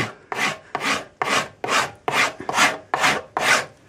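Eight steady rasping strokes of a tool chamfering the corners of a yew longbow stave, each loud, close stroke about half a second long with a brief pause between, repeated in an even rhythm with no talk.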